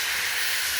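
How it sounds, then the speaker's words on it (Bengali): Water splashed into a hot pan of frying spices (chilli powder, turmeric, salt, cumin and coriander) over a wood fire, giving a steady, loud, close hiss and sizzle that holds level throughout, with no talk. "হালকা জল দেবো।"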